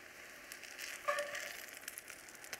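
Fritters frying in a pot of oil, a soft steady sizzle with faint crackles, close and quiet, with a brief brighter bubbling swell midway and no one talking.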